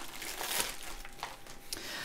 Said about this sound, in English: everything else is going to be included in here in this plastic bag or dust cover